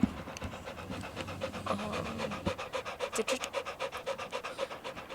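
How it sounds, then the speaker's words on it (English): A dog pants rapidly and rhythmically close by, the quick breaths growing steady and regular. "Do you hear that panting?"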